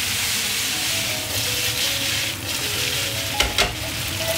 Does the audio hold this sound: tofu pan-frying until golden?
yes